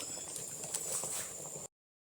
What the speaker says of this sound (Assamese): ইয়া ধুনীয়াকৈ এতিয়া উতলি আছে